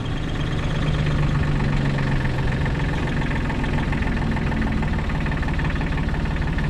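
A tractor engine idles while driving a new Gehl silage wagon, a loud steady low chugging drone with a constant mechanical hum and rattle, running continuously throughout with no talking.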